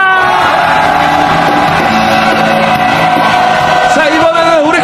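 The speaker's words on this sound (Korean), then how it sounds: "다 같이 힘찬 함성 시작!" A large crowd at a rally against the Korea–US free trade agreement shouts together in a loud, sustained roar. Voices rise and fall in pitch for about five seconds, and a few individual yells stand out above the mass.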